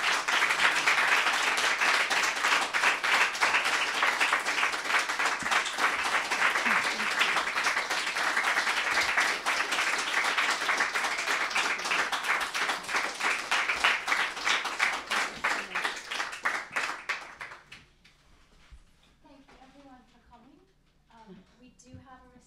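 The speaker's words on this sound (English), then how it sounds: "let's have one more round of applause" An audience applauds after an author's book reading. Thick, continuous clapping holds for about seventeen seconds, then drops away abruptly, and a voice speaks in the quieter room afterward.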